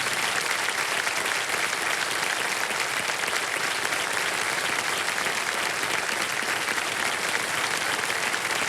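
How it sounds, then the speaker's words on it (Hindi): A studio audience on a televised quiz show claps loudly and steadily, a dense, even wash of applause that carries on alone for several seconds with no break. "ताली बजती रहे जोरदार।"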